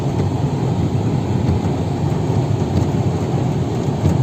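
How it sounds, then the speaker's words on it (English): Heavy rain falls on an island, a dense, steady roar of broadband noise that stays loud and even throughout with no voices. "it's raining pretty heavily here"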